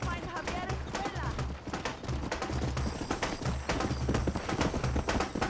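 Horse hooves gallop in the Wild West game Red Dead Redemption, a fast drumming beat running under music, ambient game sound and a voice.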